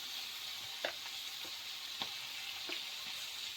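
Beans and potatoes frying in a pan, a steady high hiss of sizzling oil with a few soft scrapes and taps from stirring, close and fairly quiet, no voices.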